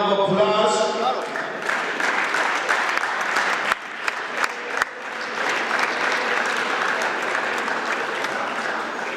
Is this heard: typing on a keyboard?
no